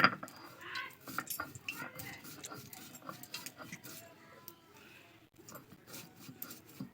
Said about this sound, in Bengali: হাত দিয়ে একটু মুচকুতে দেবো, দিয়ে সঙ্গে সঙ্গে বেটে নেব।